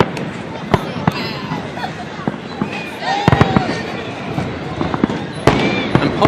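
Repeated sharp fireworks bangs and crackles at a July 4th celebration in Washington, D.C., at irregular intervals, some loud and close, over a continuous crowd murmur and chatter.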